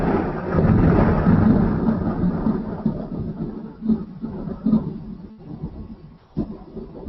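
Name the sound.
thunder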